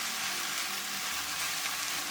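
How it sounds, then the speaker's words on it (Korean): Soft steady sizzling of fried tofu and shrimp in a pan as mirin and soy sauce are stirred in, a low continuous hiss throughout, close and fairly quiet, no voices. "맛술 한 숟가락, 간장 한 숟가락 반 정도 넣습니다. 그리고 잘 저어주세요."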